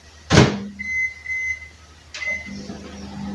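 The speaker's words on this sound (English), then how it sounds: "I'm going to put these in the microwave for a minute on full power" A microwave oven with marshmallows inside gives a heavy door clunk, then a low running hum marked by short electronic beeps, followed by a second clunk and the hum starting again.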